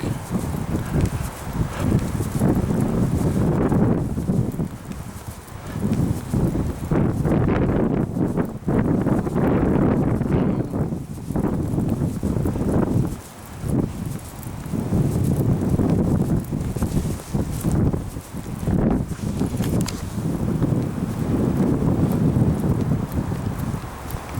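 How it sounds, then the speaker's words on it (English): Strong gusting wind buffets the microphone along a rail trail lined with trees beside farmland, a loud continuous roar that rises and dips throughout with brief lulls. "That wind might be helping people, or it might not."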